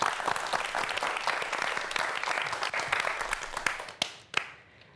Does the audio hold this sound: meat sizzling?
no